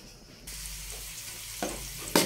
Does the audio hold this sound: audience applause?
no